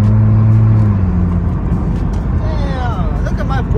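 A purple widebody Dodge Charger races nearby, its engine roaring steadily loud throughout, with a low droning tone easing after the first second and higher whining sweeps near the end.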